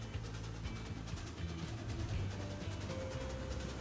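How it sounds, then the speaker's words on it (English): A distant train rolls by in the Transport Fever 2 railway game, a continuous low rumble with faint rhythmic clacking and a few tonal whines, steady and moderately quiet throughout. "I can hear the train in the distance."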